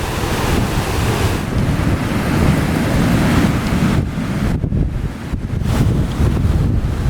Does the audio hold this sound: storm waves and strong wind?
yes